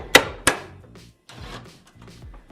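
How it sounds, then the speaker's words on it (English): A hammer strikes a car headlight twice in quick succession, sharp and close, followed by softer knocks and handling noises. "See, the hammer works."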